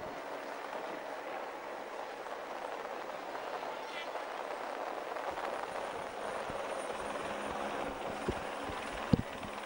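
Helicopter filming a Tour de France stage climb up Alpe d'Huez, a faint distant rotor drone under ongoing commentary voice, with a couple of sharp knocks near the end.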